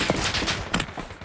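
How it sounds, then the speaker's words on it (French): Gunfire in the Lost Light shooter rattles off in a quick burst of sharp shots, fairly loud and close, with no talk over it. "Attends, il tire."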